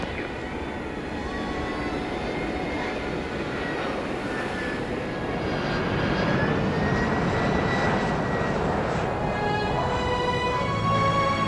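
Boeing 787 Dreamliner jet engines after its first flight, a steady roaring whine with sweeping tones that swells slightly louder partway through and holds on.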